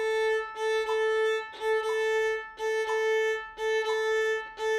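A violin repeats a dotted eighth-sixteenth figure with hooked bowing, long and short notes in the same bow direction, sounding four times in an even cycle, clear and unaccompanied.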